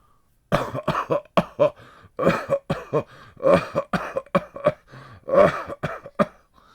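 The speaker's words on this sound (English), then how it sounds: "How long have you had that cough?" A run of harsh, hacking coughs, close and loud, coming in repeated bursts with brief gaps between them and some throat-clearing.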